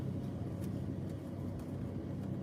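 A car with a dual exhaust running only one muffler drives along, a low, steady rumbling engine drone heard faintly from inside the vehicle.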